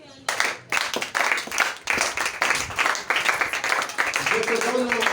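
A church congregation at a Sunday evangelical service claps in a steady, rhythmic beat. The clapping is close and loud, with voices calling out and singing over it.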